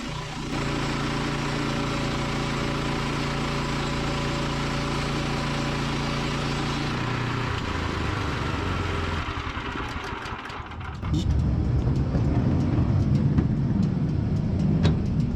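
A Woodland Mills portable sawmill engine runs steadily and loudly, with a small shift in pitch partway through, then a louder, rougher roar takes over for the final seconds. No one speaks.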